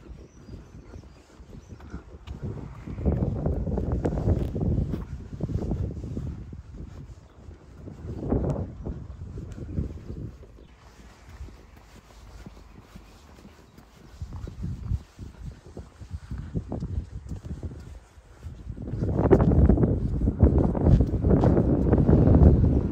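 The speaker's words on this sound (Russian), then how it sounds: "Ветер ледяной." An icy wind blows outdoors near a river, buffeting the microphone in uneven low gusts that swell and fade, strongest toward the end.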